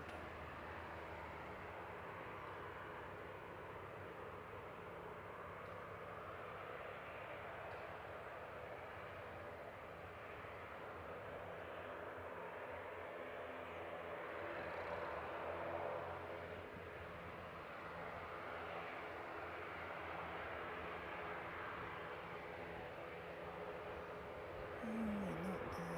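A light aircraft landing at Canterbury Aero Club in cold conditions, its engine droning steadily and broadband throughout, swelling slightly midway and near the end, with no talk over it.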